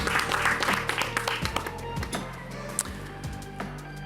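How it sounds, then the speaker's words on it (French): Audience applause for an award winner at a business awards ceremony, a moderate patter of clapping with scattered sharper claps, under a voice speaking. "On vous applaudit."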